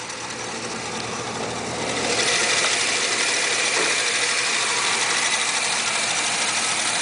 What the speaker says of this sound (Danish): en 5 liters Chevy motor i den.